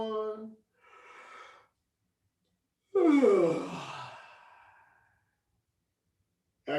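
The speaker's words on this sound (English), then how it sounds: "Yawn." A person yawns during a guided relaxation exercise, a long breathy open-mouthed exhale that rises then fades, framed by short breaths and near silence.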